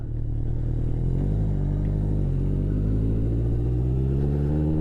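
A 1981 Yamaha XS1100 Midnight Special motorcycle with a Supertrap exhaust rumbles loud and close, a deep throbbing exhaust note that holds steady and climbs slightly in pitch as it accelerates.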